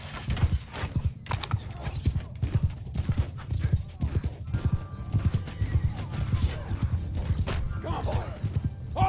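Cavalry horses gallop in the medieval battle video game Mount & Blade 2: Bannerlord, with dense, rapid hoofbeats and occasional neighs over battle noise and shouting voices.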